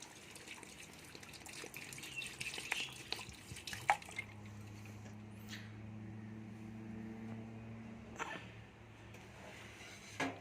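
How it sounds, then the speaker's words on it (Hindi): A glass of water is poured into a pot of mutton and potato curry (aloo gosht), making a steady, close splashing rush that fades into quieter trickles and drips, with a low kitchen hum underneath. "1 गिलास यहाँ पे हम पानी डालेंगे इसके अंदर।"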